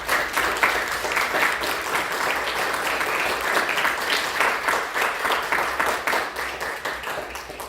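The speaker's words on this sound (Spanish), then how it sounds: "Démosle un aplauso a todos ellos." A church congregation gives sustained applause, a dense, steady wash of many hands clapping together that holds at an even level throughout.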